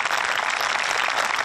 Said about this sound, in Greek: Ένα χειροκρότημα πάλι για τη χοροδία μας.